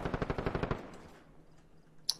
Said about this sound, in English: someone's shooting across the fucking map